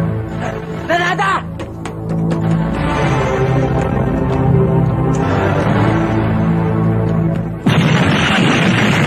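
A grenade goes off in a Filipino action film, a single heavy boom near the end that cuts sharply over a dense, loud mix of shouting voices and dramatic music.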